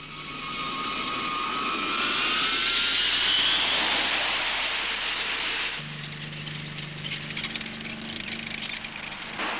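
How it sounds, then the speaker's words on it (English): A large Ilyushin military transport aircraft landing at a base, its engines a loud broad roar that swells and holds for several seconds, then drops abruptly to a lower steady hum with a droning tone, no voices. "Meanwhile, the Ilyushins are landing back at base."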